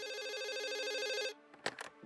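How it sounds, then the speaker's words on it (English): An office telephone rings with a steady warbling electronic trill for about a second and a half, loud and alone, then stops, followed by brief muffled shuffling sounds. "The phone rang."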